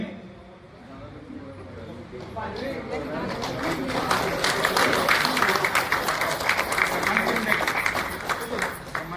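Crowd applause at a Shiv Jayanti celebration and award ceremony, swelling from scattered claps into a dense, sustained round mixed with crowd chatter.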